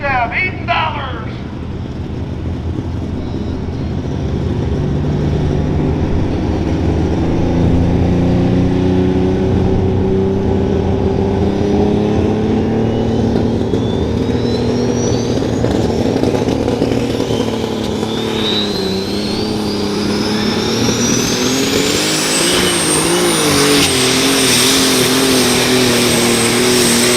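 A John Deere light super stock alcohol-fueled tractor roars continuously at a tractor pull in Freeport, Illinois, its loud engine climbing in pitch with rising whine, under crowd and announcer noise throughout.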